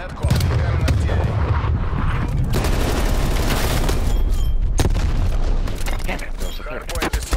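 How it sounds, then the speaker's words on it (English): Artillery strike in the video game Call of Duty: Cold War, dense booming explosions and rolling gunfire filling the whole stretch, loud and close, with a game announcer voice speaking over it. "Artillery targeting detected. Stun. Netcom. Incoming artillery."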